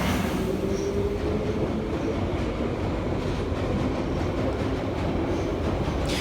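A London Underground Piccadilly line train rumbles loudly and continuously between stations on the Heathrow extension, with a dense roar of wheels and traction noise and a faint squeal throughout.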